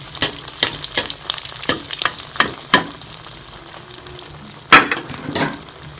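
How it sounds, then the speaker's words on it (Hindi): Mixed vegetable kebab cutlets frying in hot oil in a kadhai, giving a steady bubbling sizzle broken by repeated sharp crackles and scraping clicks, with one louder burst near the end. "अब हम इसमें कबाब फ्राई कर लेंगे"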